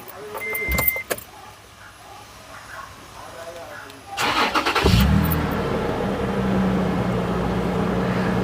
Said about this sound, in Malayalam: നമുക്ക് വണ്ടി ഒന്ന് സ്റ്റാർട്ട് ചെയ്ത് നോക്കിയാലോ.